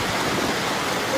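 Heavy rain pours down during Typhoon Gaemi as floodwater rises around homes in Pingtung, Taiwan, making a dense, steady wash of loud hiss with no voices.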